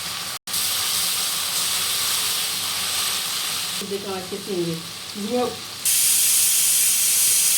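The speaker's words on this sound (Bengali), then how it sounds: "একটু পানি মিক্সড করে এখন ভাজা ভাজা করে নিতে হবে মশলাটা" Spice paste of turmeric, dried coriander and dried chili loosened with water hisses and sizzles steadily in a pan for prawn curry; a voice speaks briefly partway through, then the sizzle swells louder at the end.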